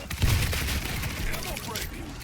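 Artillery strike in the World War Z zombie shooter game, a dense rumbling barrage of rapid explosive blasts and gunfire, loud and continuous for a couple of seconds.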